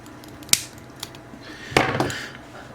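Flush cutters snip the coil leads on a Skill RDA, giving a sharp close click followed by a fainter one. A louder metallic snap and rattle comes near the end, in an otherwise quiet room.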